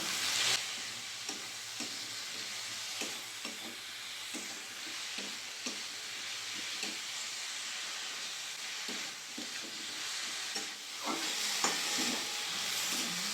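Spices, salt and chopped spring onion greens are stir-fried together in a pan, a soft continuous sizzle broken by regular scraping strokes of a spatula, close and fairly quiet.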